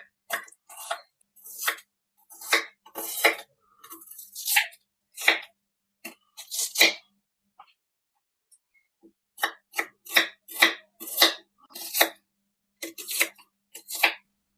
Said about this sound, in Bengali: পেঁয়াজ দুটো আমি কেটে নেব।